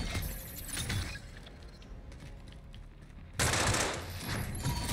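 Automatic and rapid gunfire from a Call of Duty: Warzone match, dense bursts throughout with a brief lull in the middle, then loud shooting resumes close by.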